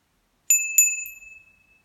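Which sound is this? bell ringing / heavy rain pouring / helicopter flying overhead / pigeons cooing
bell ringing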